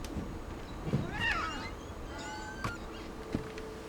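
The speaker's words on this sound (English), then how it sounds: "Is that Molly the cat?" A cat gives a soft, faint meow partway through in a quiet room, with a few small clicks and rustles around it.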